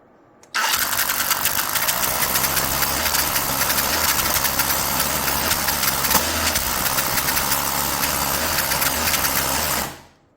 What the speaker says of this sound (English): And this is speed number 2. Watch out for loud noises.